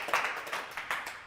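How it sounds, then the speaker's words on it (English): A small audience claps at a summit event, a brief scattered round of hand claps with a few distinct louder beats, no talking over it. "I know, they're clapping for me"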